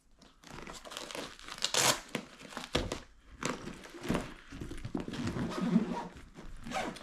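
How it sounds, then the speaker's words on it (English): Scratchy ripping and crinkling as a velcro strap on a bowling bag is pulled and pressed down, in several rough bursts close by. "let's Velcro this down"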